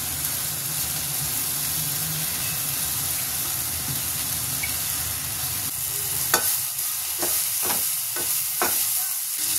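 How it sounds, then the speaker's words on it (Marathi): Onion and vegetables are gently sautéed in a pan, giving a steady close sizzle and hiss, with a few scraping stir strokes toward the end. No voices. "कांदा आणि भाजी आता एकजीव झाल्यानंतर ते थोडंसं अगदी हलक्या हाताने परतून घ्यायचं"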